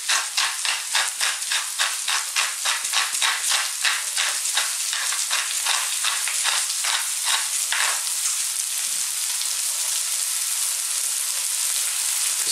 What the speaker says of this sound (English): we're now going to add our onions. So your maximum heat all the way here.